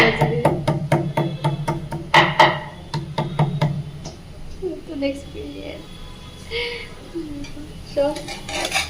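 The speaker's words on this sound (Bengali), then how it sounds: "আজকে আর আদা ওরকম থেতো করেছি আর রসুনও থেতো থেতো করে" Ginger and garlic pounded on a small stone, a quick series of sharp hard knocks for about four seconds, then someone talking with a few clinks behind her.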